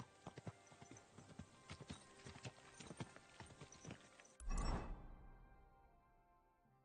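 Horse hooves in the video game Kingdom Come: Deliverance 2 clip-clop in an uneven, trotting rhythm, fairly close, then a heavy thud and rustle as the hoofbeats stop.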